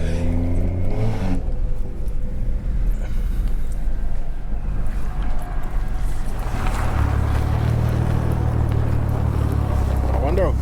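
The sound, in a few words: BMW 340i engine intake sound while driving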